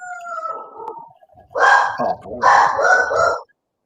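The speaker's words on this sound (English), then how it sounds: "even the dog doesn't like it." A dog vocalizes in a series of loud, close, drawn-out howling yelps following a fainter opening whine, rising and falling over a few seconds.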